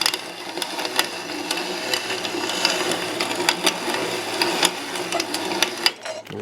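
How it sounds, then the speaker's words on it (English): A hand-turned grain mill grinding stored grains, its blade cracking the kernels ever finer. A steady, close mechanical grinding whir runs throughout with frequent sharp clicks and crunches, and briefly eases off near the end. "as we're turning the mill, that blade is tightening itself up and making it grind finer and finer"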